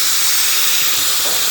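A kitchen pressure cooker lets off steam in a loud, close, continuous hiss that stays strong from start to finish.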